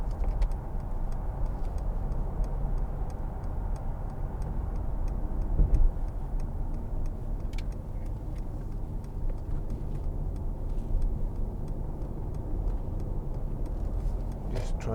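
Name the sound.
2015 Mercedes-Benz C300 accelerating on road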